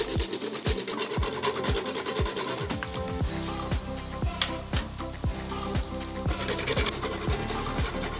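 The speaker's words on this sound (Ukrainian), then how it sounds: "Для пікантності варто натерти трохи мускатного горіху." Rapid rhythmic rasping strokes of nutmeg scraped across a grater, repeating over a steady hum in the background.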